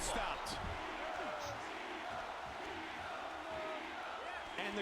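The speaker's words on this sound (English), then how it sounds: "And the crowd again cheering for Tito Ortiz." A video game arena crowd in UFC Undisputed cheers and roars in a continuous wash of sound during a fight, with a commentator talking over it.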